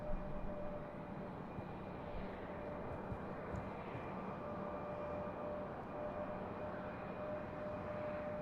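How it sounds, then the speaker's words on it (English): A Southwest airliner inbound to Raleigh-Durham airport produces a steady, distant engine drone and broadband roar, unchanging and moderately faint throughout. "Here's our Southwest inbound."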